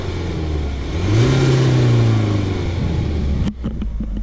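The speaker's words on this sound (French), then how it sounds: "Une petite accélération." A BMW E92 Pack M with a four-cylinder diesel engine idles, then revs up in one quick rise and falls back, followed by a cut to faint clicks; close and loud, no talking.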